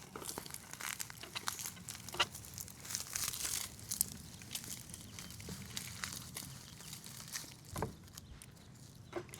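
Agave bracteosa pup being peeled off the parent plant in a succulent garden: dry crinkling, tearing and crackling rustles with a few sharper snaps, close and continuous, no voices.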